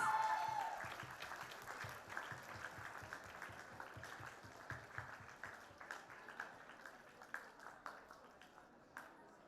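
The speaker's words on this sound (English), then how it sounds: "Give him a big round of applause." Audience applause at an awards ceremony for a best performer prize, fairly faint and distant, settling into a thinner, rhythmic clapping pattern that fades over about ten seconds.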